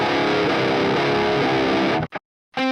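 With the Fortin NATAS tone shift set down, a high-gain electric guitar through an Orange Tiny Terror chugs loud and tight for two seconds, then stops dead in staccato cuts before striking again.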